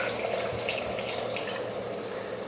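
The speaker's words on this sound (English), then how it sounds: "Now, let's go in with the red wine. So I'm going to use about half a bottle, a little bit more" Red wine, about half a bottle, pours into a hot cooking pan for a one-pot lamb stew, making a steady splashing gush with no break across the short moment.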